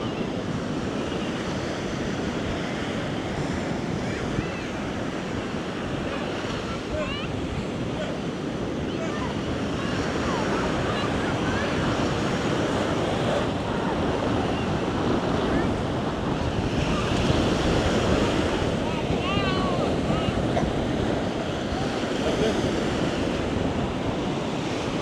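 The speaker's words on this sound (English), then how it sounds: "The tides are definitely picking up." Ocean surf washes onto the coast of Crete in a steady, loud roar of breaking waves, heavy wind buffeting the microphone throughout, with no clear pauses.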